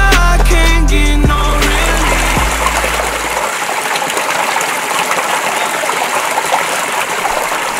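Clear mountain valley stream at Domyeongsan in autumn, water rushing and gurgling steadily over rocks, close and continuous, with a brief musical sting fading at the start before the flowing water carries on alone.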